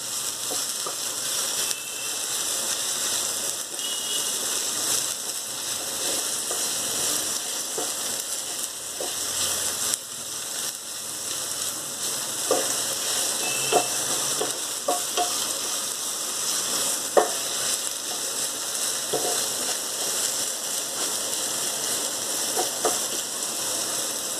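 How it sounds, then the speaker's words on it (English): Steady, dense sizzling of okra frying in hot oil over a high flame, continuous throughout with occasional small pops and stirring clicks. "The flame is on high and I am frying the"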